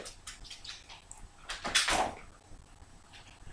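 Irregular rustling and scraping with a few soft knocks, peaking in a louder scuffle midway, like a cat batting at a cardboard box nearby.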